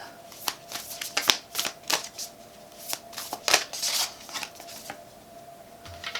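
Tarot cards being shuffled by hand, uneven clusters of quick riffling and flicking sounds, close and fairly quiet, with a faint steady hum underneath.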